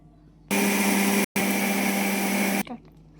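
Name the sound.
mixer grinder grinding barnyard millet and sago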